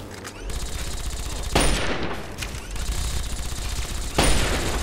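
Bursts of rapid automatic gunfire from the video game Fallout 3 crackle loudly and repeatedly, with sharper heavy blasts punctuating the stretches of fire.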